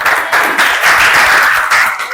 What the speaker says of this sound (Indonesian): Ayo kita berikan tepuk tangan.